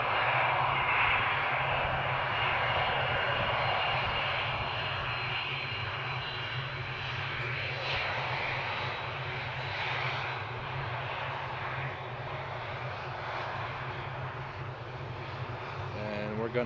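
Jet engines of a Turkish Airlines Boeing 787 Dreamliner at Amsterdam Schiphol, a sustained distant roar with a low steady hum, fairly even in level and easing slightly over time.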